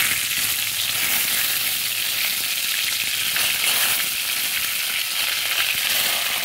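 Bay leaf and whole spices sizzling loudly in a wok of hot oil for a mutton kasa, a continuous close frying hiss with no talk.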